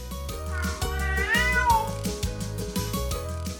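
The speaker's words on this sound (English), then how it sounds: "I'm a cat, and these are my kittens." A cat gives a clear, rising and falling meow at close range over a steady rhythmic musical backing.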